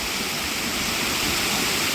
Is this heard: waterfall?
yes